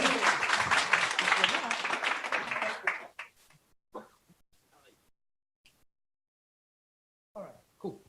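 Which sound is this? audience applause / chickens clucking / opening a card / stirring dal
audience applause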